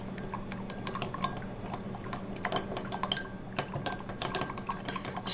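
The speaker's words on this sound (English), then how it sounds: "Now I'm going to take my stirring rod and I'm going to stir it in." Light glassy clinks and taps of a stirring rod against a glass container as syrup is stirred into a solution, an irregular scattering of close, small strikes that grows busier toward the end.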